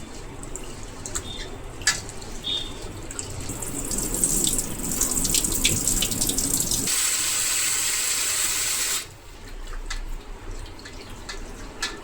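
Tap water runs steadily into a bowl as rice and lentils for handvo are washed, with splashing and sloshing that grows louder midway, then the flow cuts off abruptly and briefly resumes.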